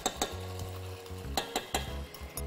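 Garlic and spices from a mortar fry with chicken fillet, ginger and pepper in a pan, heard as soft sizzling broken by repeated sharp clinks and scrapes of stirring utensils against the pan.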